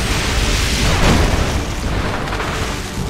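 Torpedo explosions in Red Alert 2: Yuri's Revenge, a loud rumbling boom swelling and bursting near the middle, then a dense, roaring blast that slowly fades.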